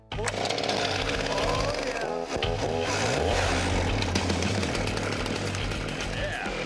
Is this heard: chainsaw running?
yes